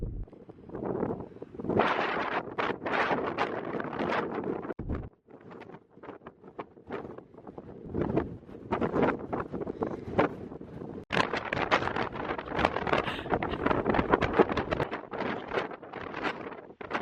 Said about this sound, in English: we have been having such a lovely, albeit very windy day on Skye today